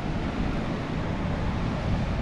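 Strong coastal wind at Boujdour, Morocco, a steady broadband roar buffeting the microphone without a break, loud and continuous with no voices.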